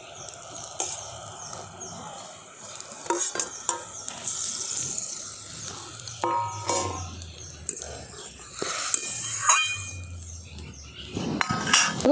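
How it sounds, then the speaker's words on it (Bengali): Fried eggplant pieces going into a simmering river bata fish curry in a pan: scattered metallic clinks and scrapes of a spoon against the cookware sound close by, over a faint bubbling sizzle. "এরপর দিয়ে দিচ্ছি আমি ভেজে রাখা বেগুনগুলো।"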